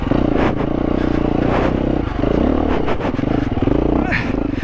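A 2022 KTM 350 EXC-F dual sport motorcycle crawling over loose boulders and rocks, its engine chugging and revving in uneven bursts with clattering stones, close and loud, while a rider speaks over it.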